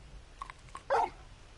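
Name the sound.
big dog barking, from the video game Final Fantasy XVI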